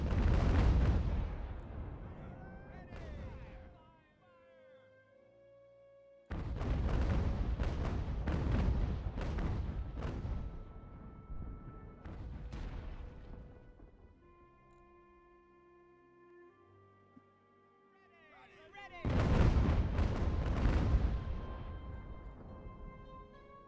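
Cannon artillery fires in an American Revolution strategy game, loud booming volleys in three bursts separated by quieter stretches of lingering in-game ambience and tones.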